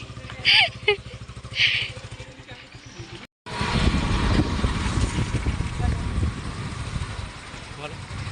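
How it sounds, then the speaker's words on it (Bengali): In a village, a few birds chirp, then a motorcycle engine starts up and rumbles continuously as it pulls away, with voices briefly heard early on. "আর এই যে আর একজন বাইক নিয়ে বেরোচ্ছে।"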